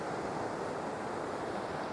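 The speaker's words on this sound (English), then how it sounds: "I found another location just around the corner from where I was a moment ago, where these incredible waves are crashing in" Ocean waves crash continuously on the rocky coast of northern Spain, a steady loud roar of surf with some wind noise, no voices.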